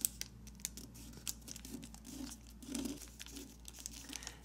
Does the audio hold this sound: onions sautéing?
no